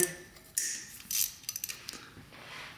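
A ratchet wrench loosening valve cover bolts on a 600cc street legal dirt bike, close metallic clicking and ratcheting in short bursts with small scrapes of tool against engine.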